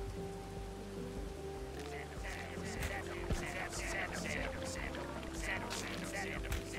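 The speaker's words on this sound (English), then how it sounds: "the rain wash this off?" Rain falls in the video game Bugsnax as a steady patter of dense droplets hitting surfaces, with a few sharper splashes and a low hum running underneath.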